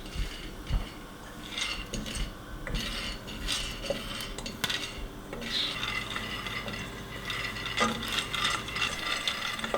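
Coffee beans sizzle and rattle in a pan as they roast on a home stove, a steady crackling, clattering texture with scraping, stirring and metallic clinks running throughout at close range.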